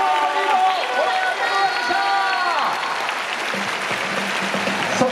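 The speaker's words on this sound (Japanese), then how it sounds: "ツバメ軍団に大きな拍手を。" Crowd at a Yakult Swallows baseball fan appreciation event applauds, a steady wash of clapping under a presenter's amplified voice and some sustained musical tones.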